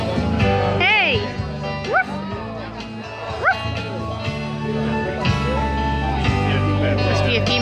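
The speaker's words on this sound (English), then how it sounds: "Look at the dog!" Dog at a beach bar and grill giving short whimpering yips and soft bow-wow sounds over loud background music and crowd chatter, with people talking nearby.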